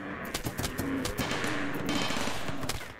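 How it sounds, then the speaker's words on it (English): A giant volley of turrets fires at a thrumbo in RimWorld, a rapid, dense burst of overlapping shots rattling on for a few seconds at close range with no voices. "here is a giant volley of turrets trying to deal with the thrumbo"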